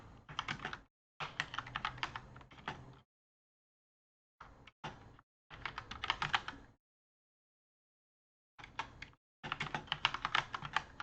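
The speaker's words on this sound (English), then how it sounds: "I was already typing that." Quick, clattering keystrokes on a computer keyboard come in several bursts of rapid typing separated by short silent pauses, close and fairly quiet.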